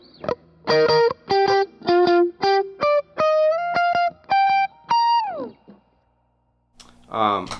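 Electric guitar lead tone through a JHS Moonshine, a Tube Screamer-style overdrive pedal: a run of sustained, distinct notes ending in a downward bend, then a brief pause before another short phrase begins. Loud and close.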